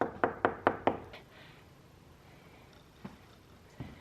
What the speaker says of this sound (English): Let me knock on some wood now that I've said that.